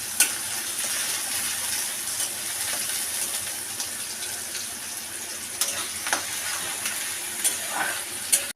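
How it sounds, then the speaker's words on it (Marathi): Chopped onion sautéing in a pan for a Maharashtrian valachi bhaji, a soft continuous sizzle with occasional scraping clicks from stirring, quiet and close, with no talking. "कांदा थोडा परतून घेऊया।"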